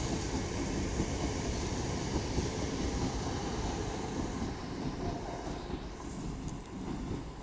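A Class 323 electric train, unit 323228, moves slowly through Manchester Airport station with a steady rolling rumble and faint wheel hiss, heard at moderate distance.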